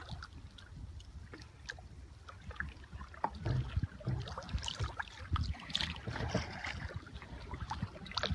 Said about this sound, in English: It's the sound of a double-person kayak paddling through one of the many bays in the area.